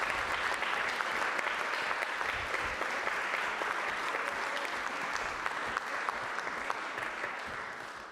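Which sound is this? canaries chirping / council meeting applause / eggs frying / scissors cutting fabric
council meeting applause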